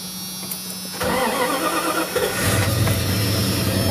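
A pickup truck with about 134,000 miles on it cranks briefly, then catches and settles into a steady mid-pitched idle, heard close and clear without voices.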